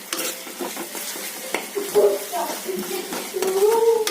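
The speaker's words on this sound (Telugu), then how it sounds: "అల్లం వెల్లుల్లి పేస్ట్ కొంచెం పచ్చివాసన పోయేదాకా వేయించుకొని" Ginger garlic paste fries with softened tomatoes in a pan for egg curry, producing a close sizzle with repeated scraping stirs and spoon knocks, while a voice speaks briefly in places.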